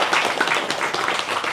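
An audience claps in a short, dense burst of many hands, close and fairly loud, with no talk over it.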